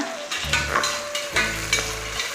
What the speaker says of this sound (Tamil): இப்போ நம்ம கருவேப்பிலை சேர்த்துக்கலாங்க ரெண்டு ரெண்டு பச்சை மிளகா போட்டுருங்க